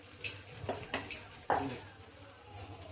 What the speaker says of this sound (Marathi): आता आपण ही राहिलेली सर्व भजी तळून घेऊया आता